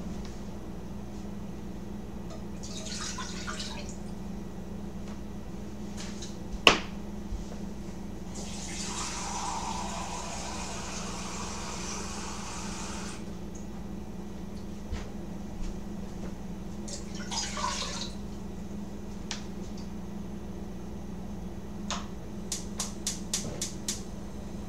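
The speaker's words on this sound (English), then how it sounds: "bring 2 cups of water to a boil in a large pot" Two cups of water pour into a large pot in one steady splashing stream lasting a few seconds. Soft clicks and kitchen handling taps come before and after in an otherwise quiet room.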